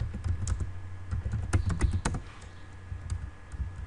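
Keys clatter on a computer keyboard as text is typed into an Excel spreadsheet, a quick irregular run of close taps with a brief pause and a few more strokes.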